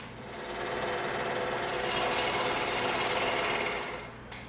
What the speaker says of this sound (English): let's go over to the scroll saw and knock that out